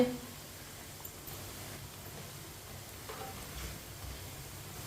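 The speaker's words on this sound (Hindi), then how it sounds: "ये वाली साइड से भी 2 मिनट के लिए पकोड़ों को पकने देते हैं।" Palak pakoras frying in hot oil give a steady, even sizzle at moderate level that runs unbroken, with no voices present.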